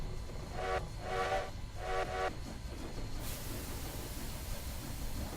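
A steam locomotive whistle sounds in the Trackside video game on a Spokane Portland remake route, three short blasts with brief gaps over a steady hiss, followed by continued hissing rail noise.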